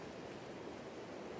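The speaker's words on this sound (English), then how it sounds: "And it's starting to rain." Rain in the hunting video game Open Country, a faint, steady hiss of falling water beside a lake, continuous and even with no voices.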